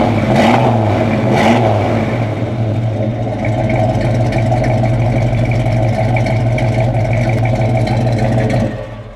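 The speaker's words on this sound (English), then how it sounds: "Motor runs super smooth" A 1965 Chevelle SS with a 350-horsepower V8 runs close up, loud and steady, with a couple of quick revs early before settling into a smooth, rumbling idle.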